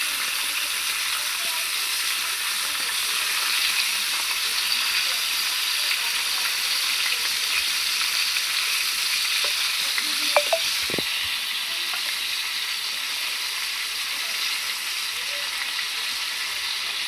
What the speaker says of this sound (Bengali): মুরগিটা ভালো করে ভাজা তারপরে আমি